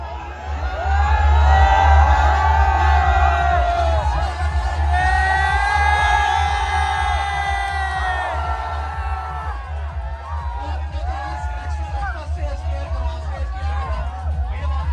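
A crowd at a motorbike meetup in India shouts, whoops and cheers loudly close by, the cheering swelling in waves over a low, steady rumble and continuous chatter.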